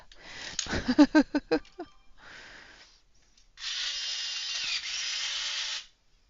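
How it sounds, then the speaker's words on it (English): An electric pencil sharpener whirs in a steady grinding burst of about two seconds near the end, following a few short clicks and rattles as it is cleared of a jam. "Got to unjam my electric sharpener."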